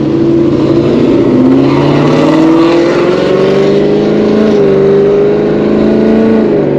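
Ford S550 Mustang on a ghost cam tune with catless long tube headers, its exhaust burbling and rising through several loud close revs with an uneven lumpy idle character.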